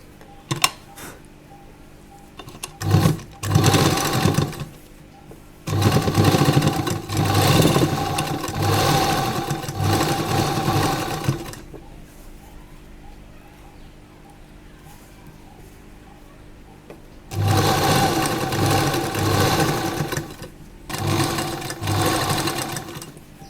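A sewing machine stitches the collar of an A-line jacket dress in several loud, sustained runs. Quieter pauses fall between the runs, and a low hum continues through them.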